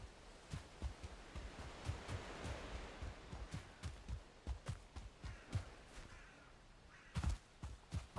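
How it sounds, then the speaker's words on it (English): A crow caws repeatedly in the video game Valheim, a series of short, sharp calls at irregular intervals over soft outdoor ambience, moderately distant, with a louder burst near the end. "I hear a crow."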